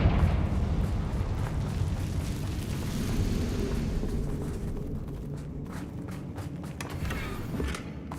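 A Confringo blasting spell from the game Hogwarts Legacy erupts as a broad, rumbling explosion that fills the scene loudly, then slowly fades and thins out while scattered crackles and footsteps continue.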